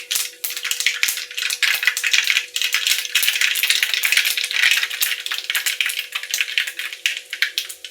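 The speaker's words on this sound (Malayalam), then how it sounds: "കുറച്ച് കടുക് ഇട്ട് കൊടുക്കാം." Mustard seeds spluttering and popping in hot oil in a pan, a dense, rapid crackle of close, continuous small pops throughout, with no voices.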